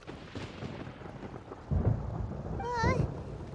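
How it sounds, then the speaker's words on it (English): Thunder rumbles low and heavy through a stormy soundscape in the video game Genshin Impact, with rain hissing softly beneath and a swelling boom near the end alongside a brief wavering tone. "Where is the storm headed?"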